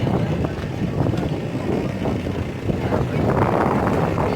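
Strong wind at Anilao Port buffets the microphone in a loud, continuous roar with gusty surges throughout.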